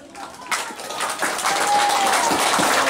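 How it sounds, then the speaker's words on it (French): A crowd at a Tahitian dance fusion event breaks into applause that swells from light scattered clapping into full, sustained clapping, with a faint voice briefly audible. "vous demande d'applaudir aussi très fort Mélanie."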